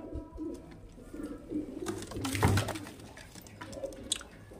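Two female pigeons, one Kalshira and one Lalshira type, coo softly at close range with low, throaty rolling calls, alongside light rustling and a brief flutter.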